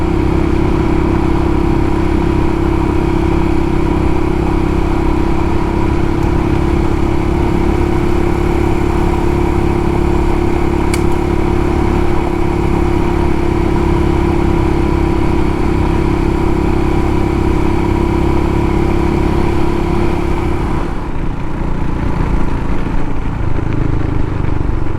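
A Royal Enfield Himalayan motorcycle rides along a gravel road, its engine droning steadily and loudly throughout over constant road and wind rumble, with no speech.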